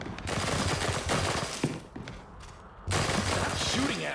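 Rapid bursts of automatic weapons fire from the After the Fall game's Quarantine Center fight on Master difficulty, loud and close, easing briefly before surging again, with a voice speaking over the shooting.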